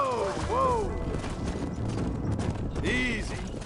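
Horse hooves clip-clop steadily in the Red Dead Redemption video game, with a couple of whinnies rising over the clatter and a busy mix of game sounds throughout.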